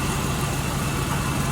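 A cheap Jeep with a newly installed alternator idles roughly and not smoothly, a steady close engine drone with a low throbbing pulse, heard alone without talk.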